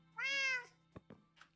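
One clear, high cartoonish meow from a cat in the game SkinCraft, followed by two short clicks and a faint soft sound, all quiet with a steady low hum underneath.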